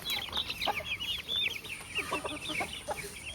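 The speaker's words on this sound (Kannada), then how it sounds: "ಇದೆಲ್ಲ ಅಪ್ಪು ಕೋಳಿ, ಅಪ್ಪು ಸಾಕ್ತಾ ಇರೋ ಕೋಳಿ ಇದೆಲ್ಲ" Pet chickens at a family home cluck in quick, overlapping bursts, several birds fairly close and steady throughout without any talk.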